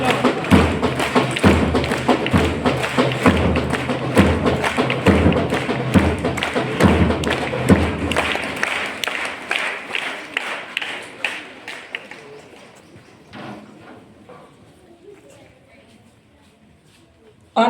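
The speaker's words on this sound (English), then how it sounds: "Welcome them with a huge round of applause." Loud, dense applause from an assembled school audience welcoming a student's family, sustained rhythmic clapping for about eight seconds before thinning into scattered claps and fading away.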